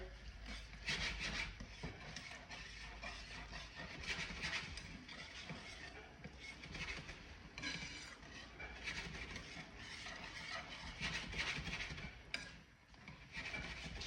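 Sausage gravy scraped and stirred around a hot pan with a utensil, a steady close rasping and rubbing that runs throughout with small clanks, no talking.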